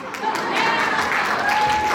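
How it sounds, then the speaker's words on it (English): Audience applause at a women's day celebration event, a steady wash of clapping that swells after a brief lull and carries on evenly with faint voices mixed in. "I think that got the biggest applause tonight."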